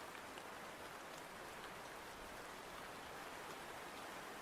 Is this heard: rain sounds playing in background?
yes